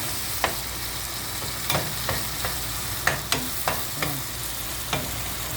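Fish curry with garlic, onion and tomato sizzles in a pan, a steady frying hiss broken by several sharp scraping stirs, close and fairly loud with no talk over it.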